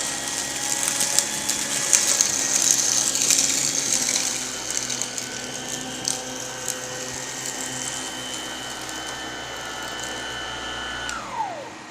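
A Tristar EXL vacuum cleaner with a power nozzle runs with a steady mechanical whine and rattling agitation, then is switched off and winds down near the end.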